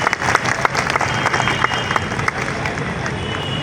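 Crowd applause welcoming a guest at a large RCM silver jubilee gathering in Ranchi, Jharkhand: dense, steady clapping from a big audience, with cheering and babble mixed in, held at an even level throughout.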